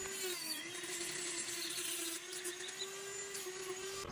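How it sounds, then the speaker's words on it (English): A drum sander whines steadily as it smooths rough glued rubbery sponge parts on homemade shoes, a constant high-pitched motor tone with a brief dip midway and faint grinding scrape over it. "once I take my drum sander and clean it up a bit"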